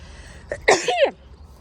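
A woman sneezes once, close and loud, with a short throat-catching burst at the start, in a family setting.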